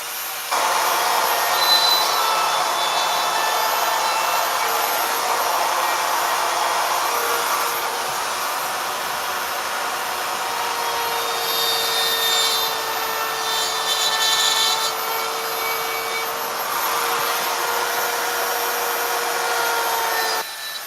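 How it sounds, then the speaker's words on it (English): Flap sanding wheel on a power tool working over a chainsaw-carved wooden figure, a steady loud abrasive whir and rasp with slight changes in pressure throughout, no voices. "you need to flap sand me."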